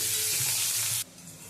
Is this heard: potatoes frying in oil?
yes